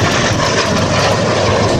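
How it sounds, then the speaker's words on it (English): L-39 jet trainer flying an airshow demonstration, a loud continuous engine roar that holds steady and close throughout the short stretch, with no voices. "The aircraft you will see today is the L-39 Bandy 1."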